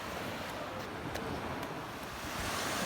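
Ocean surf at a family beach day: a steady wash of breaking waves with broad, continuous noise and some wind rumble, moderately loud and unbroken throughout, with no talking.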